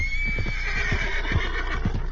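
A frightened horse in Red Dead Redemption II neighs loudly in a long shrill whinny, with snorting breaths and hoof stamps beneath it.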